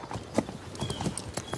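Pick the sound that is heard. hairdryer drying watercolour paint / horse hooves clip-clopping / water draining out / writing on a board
horse hooves clip-clopping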